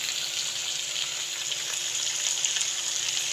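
Chicken feet frying in a pan as a tomato and green chili paste goes in, giving a steady, loud, close sizzle with a watery hiss throughout and no talking.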